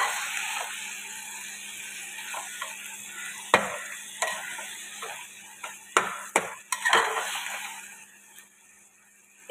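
Tomato chutney with sugar paste being stirred in a pan, a soft sizzle under repeated sharp scrapes and clinks of a spoon against the pan, irregular and close.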